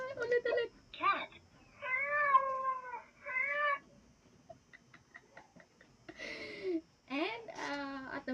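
A toddler flash card reader toy plays a cat sound, a few short electronic meows spaced with pauses, fairly faint, alongside brief spoken word prompts from the device.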